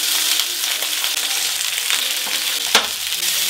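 Homemade garlic, spicy and blue cheese sausages fry in a pan with a loud, steady hissing sizzle and a few faint clinks and shifts, close by and with no one talking.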